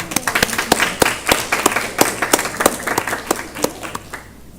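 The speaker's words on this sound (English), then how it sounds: "Let's give our colleague a big round of applause" Meeting attendees at a school board work session applaud a colleague, giving sharp, distinct hand claps at an uneven pace that thin out toward the end, with no talk over them.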